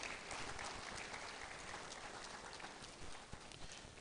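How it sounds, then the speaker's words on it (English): A room of staff at a meeting applauds themselves, giving a dense, steady burst of many hands clapping together that fades slightly toward the end, with no talking. "I want us to applaud ourselves for that"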